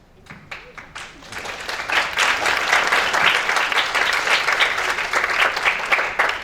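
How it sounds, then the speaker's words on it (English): Dense applause from a large audience at the Pearson Learner Awards 2024 ceremony, starting with a few scattered claps and quickly building to a loud, sustained ovation. "Your commitment to educational excellence deserves a round of applause"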